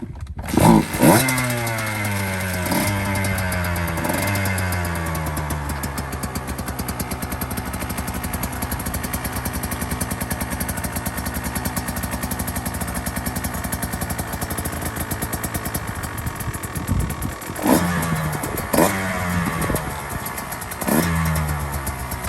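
A KTM 150XC-W two-stroke dirt bike engine runs loud and close throughout while riding, with repeated sharp revs rising and falling near the start and again toward the end, and a steadier drone through the middle.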